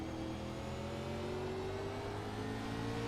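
A sim race car at Martinsville Speedway in a racing video game, its engine held high near 9,000 RPM with a steady, droning whine that climbs slightly in pitch, constant and moderately quiet without talk.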